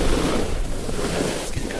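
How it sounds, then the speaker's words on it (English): Wind rushes past while snowboarding fast downhill on an alpine snowboard, a steady close roar of buffeting air with no pauses. "Feeling the wind."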